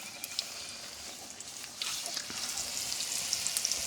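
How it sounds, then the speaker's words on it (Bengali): Potato chop coated in gram-flour batter frying in hot oil, a continuous bright crackling sizzle that grows a little denser partway through, close and steady with no talk. "বেসন দিয়ে সব কিছু দিয়ে তারপরে তেলের উপরে ছাড়তে হবে"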